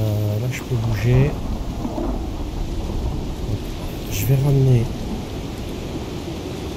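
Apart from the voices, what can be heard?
thunderstorm in the video game Icarus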